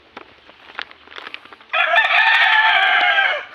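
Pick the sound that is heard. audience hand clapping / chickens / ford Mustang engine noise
chickens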